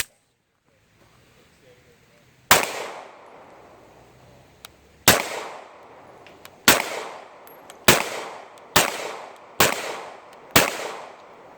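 A Walther PPQ M2 pistol fires 115-grain Acme bullets loaded with 4 grains of powder: seven loud, sharp shots, spaced widely at first and then quickening, each with a short ringing tail.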